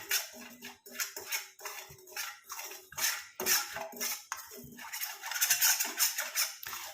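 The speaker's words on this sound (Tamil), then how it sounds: "கொஞ்சம் அடி பிடிக்காமல் இருக்கிறதுக்காக நம்ம இந்த மாதிரி கிண்டிக்கிட்டே இருக்கோம்" Dry tea powder being stirred in a pan with no oil gives repeated rhythmic scraping and clinking strokes of a utensil against the metal, close but soft, continuing steadily for several seconds with no talking.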